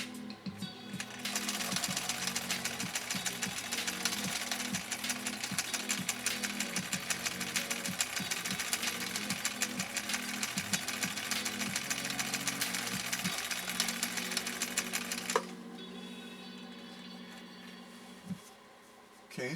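A 1962 Husqvarna Viking Type 21E sewing machine sews a blind-hem-style stitch through upholstery material with upholstery thread and a size 90 universal needle, a loud, fast, steady mechanical chatter running about fifteen seconds before it stops abruptly, leaving quiet room noise.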